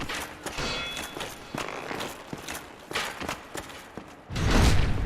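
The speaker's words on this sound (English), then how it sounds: "Hear footsteps as well, but I can't tell which direction it's in." Footsteps in Dark Souls Remastered, a series of uneven thuds and scuffs spread across the clip at moderate loudness, ending in a louder rumbling burst.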